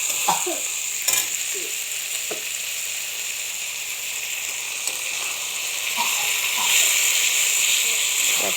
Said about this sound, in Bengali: আমি ভালো করে কষিয়ে নেব যতক্ষণ না পর্যন্ত